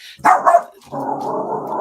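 A dog barks in two quick, loud bursts nearby, followed by a steady lower noise, with no talking over it.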